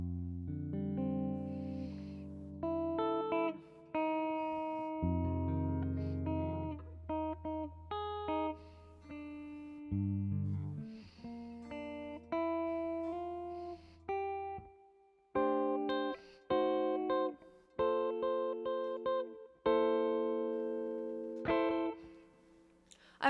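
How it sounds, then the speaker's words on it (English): A Fender American Vintage II Jazzmaster electric guitar plays through a Benson Chimera amp plugin with reverb, ringing out a sequence of chords and single notes with clear attacks and sustained decays, alone and up front. "I am playing the American Vintage 2 Jazzmaster sent to me by Sweetwater"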